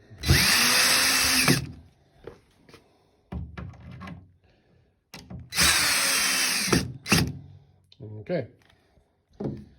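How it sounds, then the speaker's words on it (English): A power drill drives screws into a wooden roll top desk during assembly, with two long, loud whirring bursts up close and speech with light knocks in between. "I can go ahead and attach these screws and shoot them in to hold the top in position for the back"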